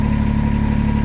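A Kubota BX series compact tractor engine runs steadily at close range, a loud, even mechanical drone with a constant throbbing pulse and no pauses.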